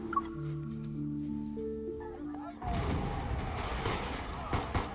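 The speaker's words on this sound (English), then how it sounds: "Gunfire and the sound of tables and chairs getting knocked over intermingle" Gunfire and crashing tables and chairs in the Love and Deepspace game burst in suddenly and loudly after a few seconds of soft tonal music, then continue as a dense stretch of booming and clattering.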